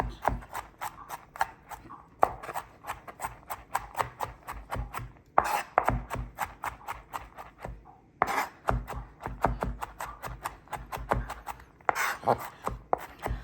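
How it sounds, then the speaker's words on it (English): Knife chopping garlic on a cutting board, heard as fast, steady rhythmic taps close by with brief pauses between bursts and no talk. "I'm just going to run the knife through it."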